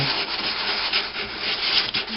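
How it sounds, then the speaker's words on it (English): Steady, close-up scratchy rasping of sandpaper on a sanding block rubbed back and forth over wood, continuous with no pauses. "All I did was just use my sanding block."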